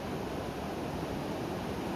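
River at Kalsi near Dehradun runs fast and high over its banks, a steady, loud rush of churning water with no break.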